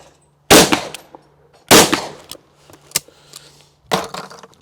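A cheap £150 Italian shotgun fires three loud, sharp shots at clay targets outdoors, spaced over a few seconds with quiet gaps and faint clicks between.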